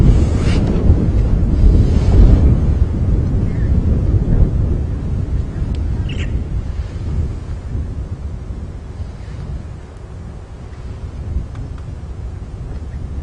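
Wind gusts across an open safari vehicle at Djuma Game Reserve, producing a loud, rumbling buffet on the microphone that swells and eases over several seconds with no speech.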